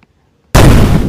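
A bomb goes off in the dungeon video game Dungeon Faster, a sudden loud blast after near silence that stays as a dense roaring burst.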